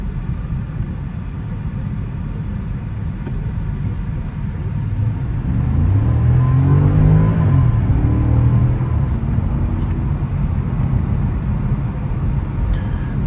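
A 2010 Porsche Panamera 4S in sport mode accelerates, its engine note rising as a low rumble from inside the cabin over steady road noise.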